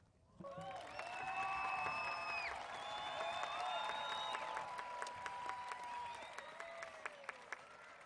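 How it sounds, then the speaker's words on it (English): Applause from a large audience at a Cameron University commencement for the class of 2021: dense, steady clapping that holds for several seconds, with brief pitched tones ringing over it. "Please join me in one more round of applause for the class of 2021"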